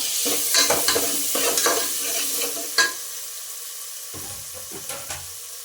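Crushed green chilli, ginger and garlic fry with onion for a chicken biryani, stirred in a hot pan: a series of close scraping, sizzling stir strokes, then a brief lull before a few more stirs.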